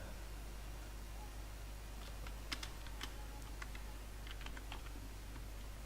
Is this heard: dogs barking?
no